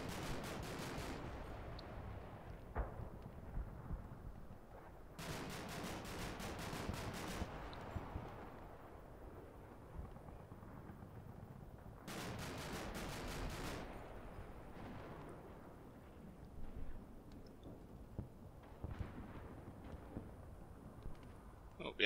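Gunfire aimed at a BRDM armored vehicle in the wargame Combat Mission, heard as a few distant bursts of rattling shots, each lasting a couple of seconds, over a low rumbling battlefield bed while someone talks throughout.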